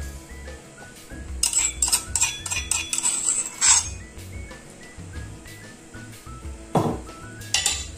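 Garlic goes into a pan or bowl while purslane borani is being prepared, giving bright clinks of utensils against dishes in short bursts, with quieter stirring and scraping between them and no talk.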